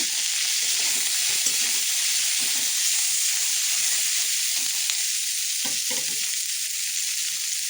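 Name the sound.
onion frying in pan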